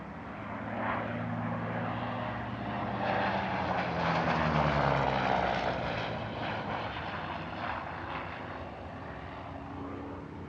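A post-war Bf109-derived propeller fighter passes at an airshow, its piston engine droning steadily and swelling as it nears, then fading off with a slowly shifting pitch, with no voices.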